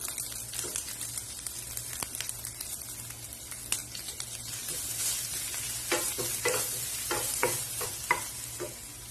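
Ginger and crushed garlic, some ten to twelve cloves, fry in hot oil for a Kerala-style black chickpea curry, with a steady sizzle and a quick run of stirring scrapes and taps of a spoon against the pan in the second half.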